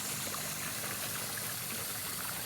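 Water pours steadily from a tap into a container, a continuous broadband splashing rush that holds even and fairly loud throughout, with no voices.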